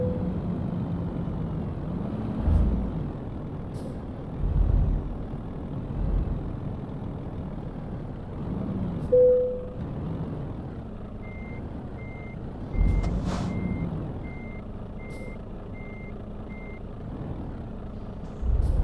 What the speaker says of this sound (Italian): sono pieno di camion in mezzo